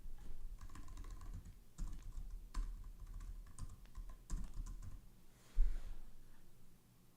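Quiet, close typing on a computer keyboard, irregular bursts of key clicks with a few heavier taps and pauses between them, no voices.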